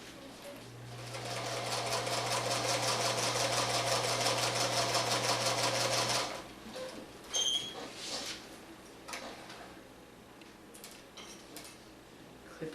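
A sewing machine stitches along a line on a foundation-pieced pineapple quilt block, a steady close whir lasting about six seconds, then stopping into quiet handling noises.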